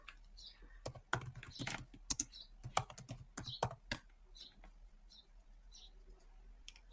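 Fingers typing on a computer keyboard, quick bursts of close, crisp key clicks in irregular runs that thin out toward the end, with faint bird chirps in the background.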